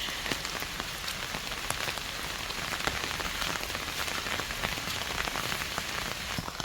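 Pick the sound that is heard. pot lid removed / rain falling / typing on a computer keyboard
rain falling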